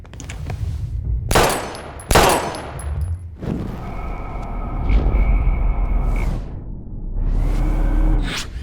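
Gunfire in Life Is Strange, two sharp loud shots followed by rumbling, whooshing game effects and a sustained tonal drone, with no talk over it.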